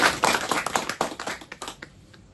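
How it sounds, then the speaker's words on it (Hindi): Brief burst of applause for a retiring officer at a farewell gathering: a group clapping briskly for about two seconds, close and fairly loud, fading at the end. "उसके लिए ताली बजाओ।"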